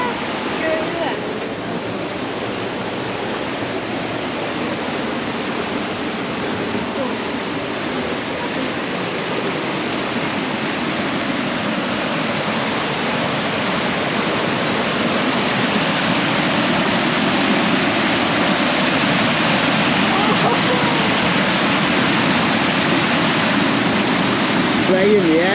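Steady roar of rushing water throwing spray into the air at a campsite in Snowdonia, a broad continuous wash of sound that swells slightly louder toward the end, with faint voices in the background.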